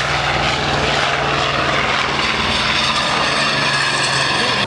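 Corsair fighter's propeller engine at the La Ferté-Alais airshow, a loud, steady piston drone with propeller buzz, close and continuous with no talk.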